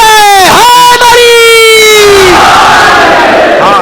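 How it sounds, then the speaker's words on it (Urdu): At a Shia majlis mourning gathering, a crowd shouts the Nara-e-Haidari slogan: a loud, drawn-out leading call swells into a massed roar of many voices. "بول نعرے حیدری."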